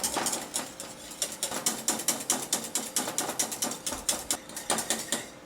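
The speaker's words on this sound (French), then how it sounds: "nous allons maintenant fouetter" A whisk beats lemon cream in a pan, producing a brisk, regular run of rapid clicking scrapes against the metal, close and steady, with no voices.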